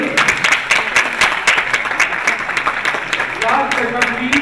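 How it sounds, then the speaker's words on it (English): An indoor audience at a talk on social entrepreneurship breaks into steady, dense applause of many hands clapping nearby, sustained for several seconds, with a voice speaking over it. "give them a huge round of applause once again"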